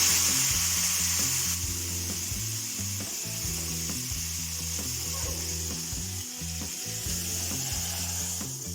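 Golden-fried onion tempering sizzles loudly as it is poured into a spinach erissery curry. The crackle is steady and close, with faint stirring and scraping sounds running through it.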